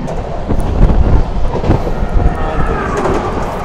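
The Simhadri Express rumbles past on the railway with a dense, roaring wash of wheel and wind noise, loud and close throughout the short stretch.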